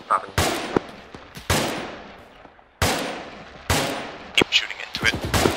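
Rifle fire from enemies in a town during an Arma 3 firefight: loud, sharp shots in spaced bursts with echoing tails, several cracks close together near the end.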